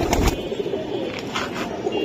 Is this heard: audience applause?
no